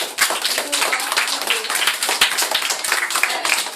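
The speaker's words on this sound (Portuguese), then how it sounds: "pedir também uma grande salva de palmas para a professora Rosalina" An audience gives a teacher a round of applause, close and lively, with many individual claps standing out in a fast, uneven patter that carries on steadily.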